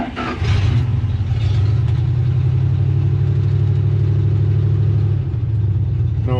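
A 1969 Dodge D100 pickup, parked for twenty years and running without a muffler, idles loud and steady at close range, with a brief rougher burst at the start and a dip near the end.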